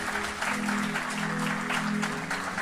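A church congregation applauds during a French-language sermon, a steady, dense clapping from a crowd that holds throughout, with a faint sustained tone underneath.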